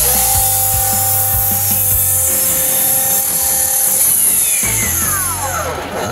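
A Bosch 10-inch double bevel miter saw with a Bosch 24-tooth blade cutting through wood, a loud high motor whine with the blade biting steadily, then spinning down at the end.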